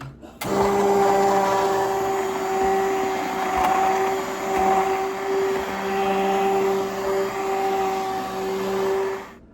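An immersion blender purees butternut squash soup with a steady, loud motor whine that runs almost without a break, dips slightly now and then as it works through the pot, and stops near the end.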